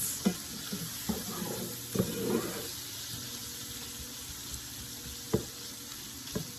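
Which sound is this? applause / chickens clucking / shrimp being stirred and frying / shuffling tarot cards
shrimp being stirred and frying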